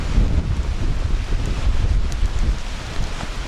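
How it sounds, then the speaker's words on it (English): Strong wind during Tropical Storm Isaias buffets the microphone outdoors beside a flooded creek, a steady, loud, low rumbling roar with gusty swells and no voices. "A lot windier out this way too."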